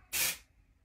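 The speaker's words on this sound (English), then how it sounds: "I'm gonna keep spraying and see what happens." A single short burst of dry shampoo from an aerosol can, a bright close hiss lasting about a third of a second and then cutting off into quiet.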